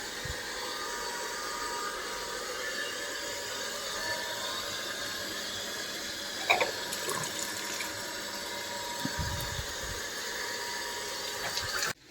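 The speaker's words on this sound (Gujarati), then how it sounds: "પીવાનું પાણી આવી ગયું તો ભરી લઈએ" Drinking water pours into containers on a farm in a steady, continuous rushing stream with a faint mechanical hum beneath it. A couple of brief knocks sound partway through before the flow cuts off abruptly.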